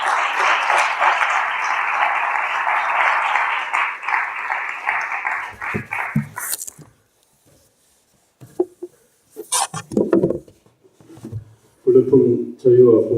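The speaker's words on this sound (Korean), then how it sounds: "앞으로 나오시는 동안 큰 박수 부탁드리겠습니다." Audience applause at a founding assembly, a thick burst of clapping lasting about six seconds before it abruptly stops, followed by scattered thumps, shuffling and a voice speaking.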